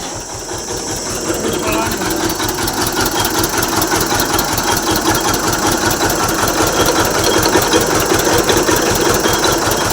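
Motor-driven juice machine running at a roadside juice stall under a bridge, a loud steady mechanical chug with rapid regular pulsing, close by throughout.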